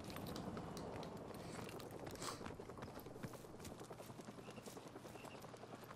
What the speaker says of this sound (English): that helicopter's coming around pretty quick